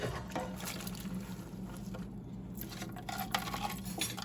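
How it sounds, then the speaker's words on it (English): A quart of vegetable stock pours into a soup pot for potato leek soup, giving a steady liquid splashing and trickling wash with faint metallic pot clinks throughout, close and continuous. "we're going to pour in a quart of our vegetable stock"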